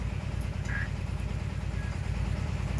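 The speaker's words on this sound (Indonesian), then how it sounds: "rata-rata rumah pakainya genset. Ini dengar suara ini." A house generator produces a steady, low mechanical drone that hums evenly throughout, like an engine running nearby without pause.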